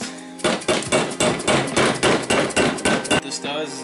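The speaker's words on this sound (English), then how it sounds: "Then you get a soft hammer, like a step blow or a rubber mallet" A soft hammer or rubber mallet taps repeatedly on a wheel bearing strip during hub and bearing work on a car's steering knuckle, giving about a dozen loud, evenly spaced knocks close by with no talking.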